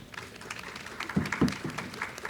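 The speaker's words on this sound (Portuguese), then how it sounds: "As palmas aqui." Scattered, irregular clapping from an audience at an HR conference panel on ESG in Rio, with a few louder claps near the middle over a soft room background.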